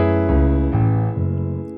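Piano plays a short bass-line variation from a song, three low sustained notes struck in succession, close and clear with no talking.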